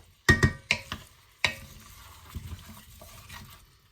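Butter melting in a pan with a few vegetables and a little olive oil, giving a soft continuous sizzle broken by several sharp stirring clatters near the start and one more partway through.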